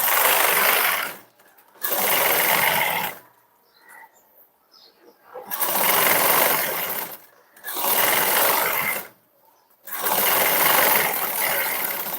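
A sewing machine stitches a blouse in bursts of steady whirring, several runs separated by short pauses, close and fairly loud, with faint background sounds in the gaps.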